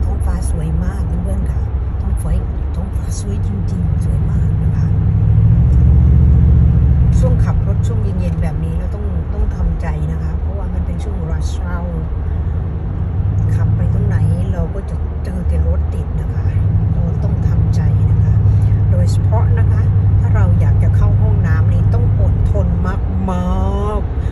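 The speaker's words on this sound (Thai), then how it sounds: "ตอนนี้ก็กำลังขับรถกลับบ้านกันค่ะ รถราบนท้องถนน6โมงนี่ก็ยังแบบ ติดอยู่นะคะ" A car is driving home on a road in slow evening traffic during the Christmas season in Florida. A steady low engine and road rumble continues throughout beneath nearly constant talking.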